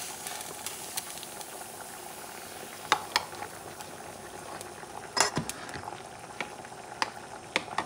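A pot of water boiling for rosemary tea gives a soft continuous bubbling hiss, broken by scattered sharp clinks and small metallic rattles, with no talking.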